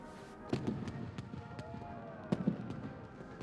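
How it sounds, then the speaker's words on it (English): Fireworks popping and crackling in bursts, two clusters of sharp bangs with scattered fainter pops between, moderately distant, no voices. "I do love fireworks."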